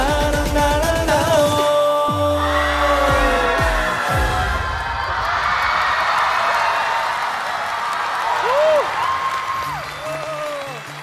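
A studio audience applauds and cheers at a televised interview show, and the clapping swells into a dense, sustained roar. Musical tones and a brief voice sit over the crowd noise.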